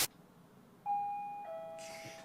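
A house doorbell rings with a clear two-tone ding-dong chime, close and fairly loud, following a brief click, with the second tone trailing off into quiet room noise.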